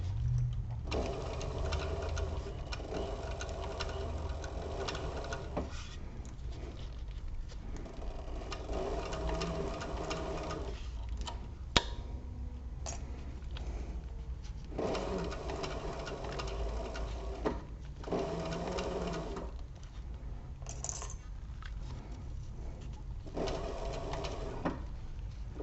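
A sewing machine stitches a crossbody bag gusset in several long runs of steady mechanical whirring with short pauses between them, while pigeons coo faintly in the background.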